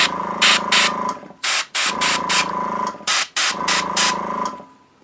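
Airbrush lightly spraying teal paint onto a miniature, three bursts of hissing separated by short pauses, close and fairly loud, with a faint compressor hum underneath and no talking.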